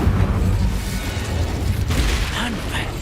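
An Incendio fire spell cast in the Hogwarts Legacy video game erupts as a dense, rumbling burst with booming crackle that holds steady throughout, amid loud, busy game combat noise.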